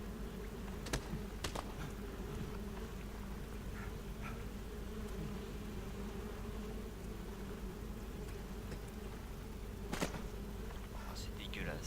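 Flies buzz steadily in a dank, foul-smelling game area of Kingdoms of Amalur: Reckoning, a soft continuous drone under faint ambience, with brief sharper clicks near the start and around ten seconds.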